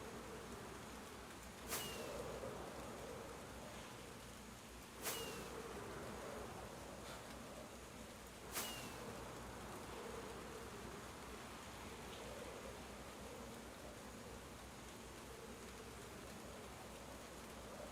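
Bees buzz steadily in Minecraft over a background wash of rain, with three sharp clicks at regular intervals.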